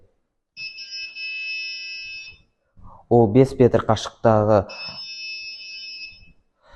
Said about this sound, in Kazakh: кедергіні көрсе, бипер дауыс шығарады